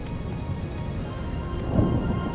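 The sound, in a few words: thunderstorm with rain in the video game RiME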